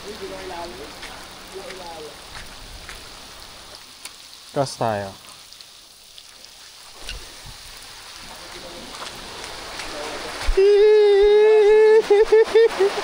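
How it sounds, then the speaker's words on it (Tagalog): Steady, dense heavy rain fills the background at a fishing pier in Subic while people talk over it, with a louder, harsher roar of downpour surging near the end. "Sobrang lakas ng ulan."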